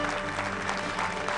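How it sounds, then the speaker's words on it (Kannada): Audience applause welcoming guests onto the stage at a ladies' club event in Mysore, a steady wash of clapping from many hands that holds evenly throughout the short moment. "ನಿಮ್ಮೆಲ್ಲರ ಚಪ್ಪಾಳೆಯ ಮೂಲಕ ಅವ್ರನ್ನ ವೇದಿಕೆಗೆ ಸ್ವಾಗತಿಸೋಣ"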